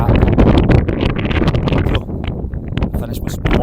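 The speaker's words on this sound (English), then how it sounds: "Thought I'd do one without the mic just so you can hear what kind of wind we've had" Strong wind buffets the summit of Beinn Chabhair, a Scottish Munro, with loud, close, continuous roaring gusts that barely ease across the whole stretch.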